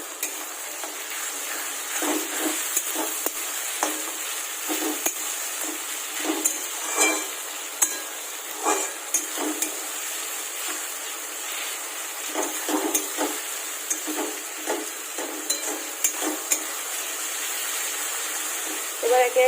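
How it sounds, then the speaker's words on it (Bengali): Onions frying in a pan with spice paste being stirred in, giving a steady close sizzle with scraping stir strokes throughout, and a faint voice now and then. "পেঁয়াজটা একটু ভাজা ভাজা হয়ে গেছে, এবার আমি মশলার পেস্টটা ওর মধ্যে দিয়ে দেবো।"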